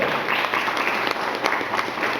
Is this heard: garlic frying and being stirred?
no